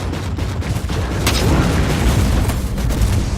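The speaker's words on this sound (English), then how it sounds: "I use the Orbital Strike, which did no damage there at all" Orbital Strike bombardment in a Warhammer game: loud, rumbling booms and crackling blasts roll on continuously, with one sharp burst standing out, swelling slightly toward the end.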